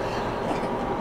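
A passenger train rolls along the rails in India, a loud, steady, dense rumble with no pauses and no voices.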